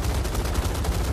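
Rapid gunfire strikes an aircraft in the War Thunder flight game, a loud, continuous rattle of close impacts and shots with a steady roar underneath and no talking.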